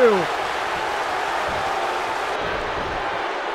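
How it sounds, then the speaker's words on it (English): Wrestling crowd in WWE 2K15 roars continuously, a dense wash of cheering and noise that holds steady throughout, loud and close like an arena full of fans. "This crowd is going wild now."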